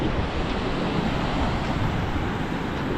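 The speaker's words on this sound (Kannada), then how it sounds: "ಸೊ ಈ ಫಾಲ್ಸ್ ಯಾವ ಫಾಲ್ಸ್ಗೂ ಕಮ್ಮಿ ಇಲ್ಲ." Rushing water at Chaya Bhagavathi waterfall near Narayanpur, a steady broadband roar with no breaks, heard alone without talk.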